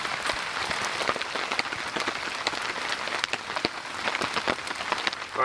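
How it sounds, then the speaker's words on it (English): Heavy rain pounds a tarp in a dense, steady drumming of close, loud patters and splashes, with no voices. "That rain is just too loud in that tarp"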